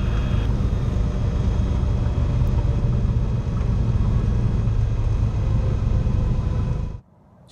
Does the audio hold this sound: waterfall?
no